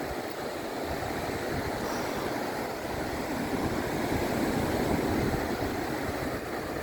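Sea waves at Quy Nhon beach in Vietnam roll in as a continuous, broad surf wash, steady and moderately loud with some wind noise and no talk.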